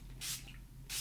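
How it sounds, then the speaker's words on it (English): A hand spray bottle misting a sheet of black cardstock, two short bright hissing bursts with a quiet pause between them, close and soft. "I'm going to take my spray and going to spray this off camera"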